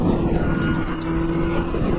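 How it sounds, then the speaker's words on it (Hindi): KTM and Kawasaki motorcycles rev at full throttle on a road, producing a loud, steady, close engine roar that holds for the whole moment without a break. "पूरा खोला भाई इंजन इतनी ज्यादा थ्रॉटल पावर में"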